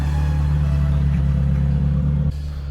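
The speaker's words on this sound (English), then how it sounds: "We're going to do a drive video on the Ferrari F355" A Ferrari F355 Berlinetta with a gated manual gearbox, heard as a loud, steady low engine drone and rumble from inside the car, which drops in level near the end.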